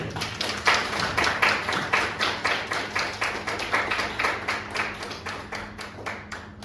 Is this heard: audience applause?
yes